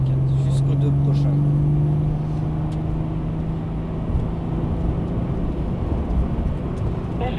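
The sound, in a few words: Maserati car engine accelerating on a race track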